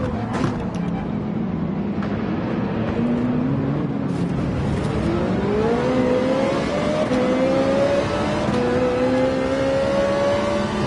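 A race car engine in Gran Turismo 7 at the Sardegna circuit climbs steadily through its revs, a loud continuous drone rising in pitch with a brief shift dip midway, and no talk over it.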